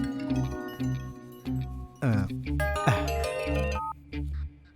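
A phone ringtone plays a repeating melodic tune in several loud bursts over a steady background, with no talking.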